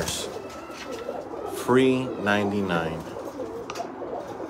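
Pigeons in a loft coo in soft, throaty rolling calls close by, with a longer burst in the middle, while someone talks over them.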